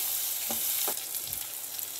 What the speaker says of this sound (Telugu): అదే నూనెలో కొద్దిగా ధనియాలు, రుచికి సరిపడా, అది కూడా నూనెలో ఆనియన్స్తో పాటు బాగా వేయించుకోవాలి